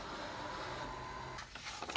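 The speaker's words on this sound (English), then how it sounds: "So this is the printer." An office printer in a university printing room whirs and hums mechanically for a couple of seconds, ending with a few sharper clicks as the pages feed through.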